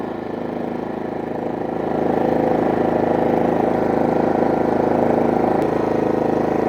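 A GENMAX GM3500iAED 3500-watt dual-fuel inverter generator runs at close range, giving a steady mechanical hum that swells slightly in pitch and loudness after a couple of seconds, then holds even with no voices.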